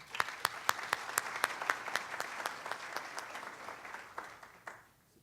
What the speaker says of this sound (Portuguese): palmas para o Dr.